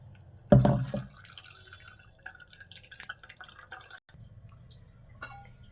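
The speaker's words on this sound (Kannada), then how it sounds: "ಇವಾಗ 2 ಸೆಕೆಂಡ್ ಹಾಲು ನಾನು ಇದಕ್ಕೊಳಗೆ ಹಾಕ್ಕೊಳ್ತಾ ಇರ್ತೀನಿ" Ragi milk poured into a vessel, opening with a sudden close splash followed by a few seconds of light, irregular trickling and dripping, with no voices.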